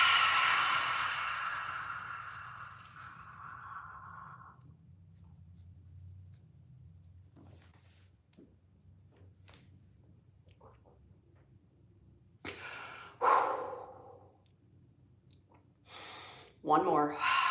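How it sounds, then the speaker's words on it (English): Deep inhaling and exhaling during a yoga nidra breathing exercise, a long breathy rush at the start fading out, then a few sharp, loud breaths near the end, close to the microphone, with brief soft talk in between. "hold the breath and suck the belly up into your low rib cage. Breathe."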